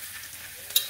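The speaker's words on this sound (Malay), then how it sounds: "Bila dah telur dah masuk, kita kacau je." Eggs frying with kailan in a hot pan, stirred steadily, making a soft continuous sizzle with faint scraping and one brief sharp clink near the end.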